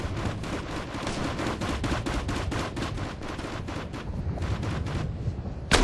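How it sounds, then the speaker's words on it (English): Dense, continuous automatic gunfire rattles through a firefight in the military shooter Operation Flashpoint: Red River, with rapid overlapping bursts at close and middle distance and no pauses, ending with a louder blast. "We're taking heavy fire here!"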